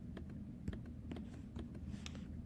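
Keystrokes on a computer keyboard while solving a Sunday crossword: scattered, uneven clicks of individual keys at close range over a steady low hum, with no talking.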